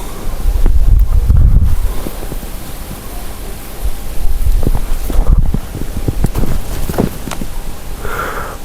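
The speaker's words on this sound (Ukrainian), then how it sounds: "вітряна погода, очеред шелестить." Strong wind gusts outdoors rush against the microphone in windy weather, with reeds rustling, a loud, continuous blustery roar that swells and eases.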